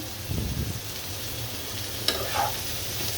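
Bitter gourd frying and sizzling in a pan on a stove, a steady hiss with a brief stirring scrape and a sharp clink partway through.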